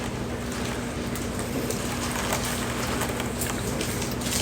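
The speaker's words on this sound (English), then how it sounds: "It's raining outside and it looks really nice." Steady rain falling outside, a dense, even hiss of drops on surfaces that holds at the same level throughout with no voices.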